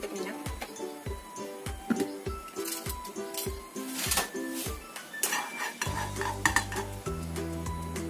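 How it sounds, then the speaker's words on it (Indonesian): A spice paste for chicken rolls is stirred in a pan with a little oil, with a spoon scraping and clinking against the pan in a steady rhythm over a soft sizzle that grows louder toward the end. "Kemudian kita tumis bumbunya dulu ya,"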